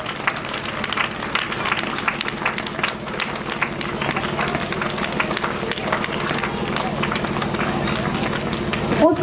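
Audience applause at a village poetry event, a steady crowd of clapping hands that continues evenly throughout, close and fairly loud, with a murmur of voices underneath.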